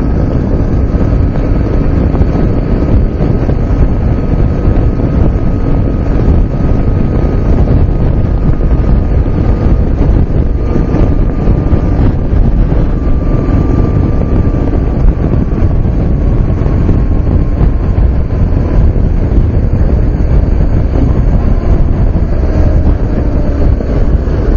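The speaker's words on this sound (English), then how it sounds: "just a wonderful old motorcycle" Riding an old BMW motorcycle, heavy wind buffets the microphone in a loud, steady roar that runs without a break and buries any engine note, with no talking.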